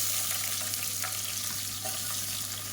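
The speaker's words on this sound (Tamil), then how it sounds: "இப்போ பாருங்கள் மசாலா வந்து பொரிய ஆரம்பிக்குது" Whole spices splutter and sizzle in hot oil for biryani, a steady close crackling hiss with faint pops and a low hum beneath.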